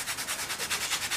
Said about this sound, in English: I use these sanding sponges a lot for this too. Eh? I'll just give this one a quick sand.